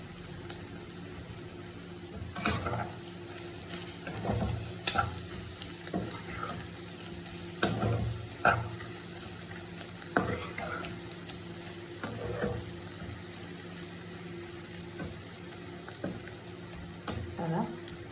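Prawns sizzling steadily in a pan on a home stove, with periodic scraping strokes of a spoon stirring them every few seconds and a faint hum underneath.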